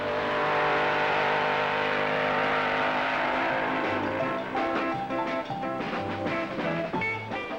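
A rear-engined, fully streamlined dragster, the Wedge 2, revs and roars steadily at a 1960s drag race under a loud musical soundtrack, sustained throughout with rising and falling pitch.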